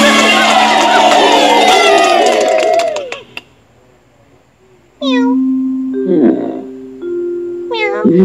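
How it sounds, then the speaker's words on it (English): A cartoon kitten in a children's reading app gives a series of bright, high meows, first layered in a loud burst, then after a short pause as single clear mews against quiet. "The kitten looks very small in Grok's big hands"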